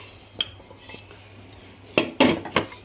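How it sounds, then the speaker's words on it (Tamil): A metal idli steamer pot lid is set down and closed, giving a few close, bright clanks and rattles after a quieter stretch with a single earlier clink. "இட்லி பானையை க்ளோஸ் பண்ணி அஞ்சு நிமிஷம் வேணும்"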